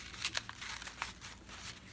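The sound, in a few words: folding long brown paper into a circle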